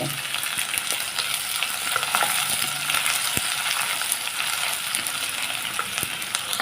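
Finely chopped onion sautéing in hot oil in a pan for a potato and capsicum dish, a continuous close sizzle with light stirring scrapes, no voices.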